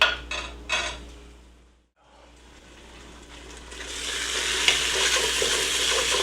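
Onions cooking down in a pan for French onion soup: a few spoon clinks and scrapes at first, a short near-silence, then a sizzle that swells steadily louder and stays bright to the end.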